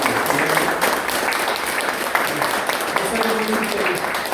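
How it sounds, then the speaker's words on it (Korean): A church congregation applauds to welcome visiting pastors and members at a GOODTV staff worship service, a steady dense clapping that continues unbroken with voices mixed in. "우리 박수로 환영합니다"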